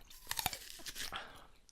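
Teeth bite into a raw King Edward potato with sharp crunches followed by quieter chewing, close and intimate, with no talk during the bites.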